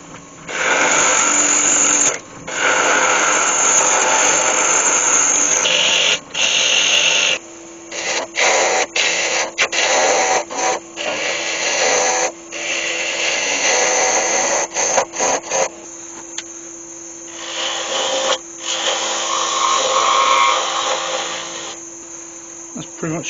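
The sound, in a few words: wood turning on a lathe, removing wood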